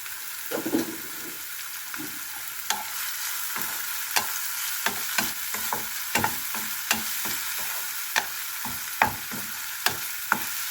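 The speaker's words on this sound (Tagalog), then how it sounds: "Iluto lang natin yung beef para pag prito natin ay luto na siya." Ground beef sizzles in a hot pan with steady crackle, broken by repeated sharp clinks and scrapes of a utensil stirring against the pan.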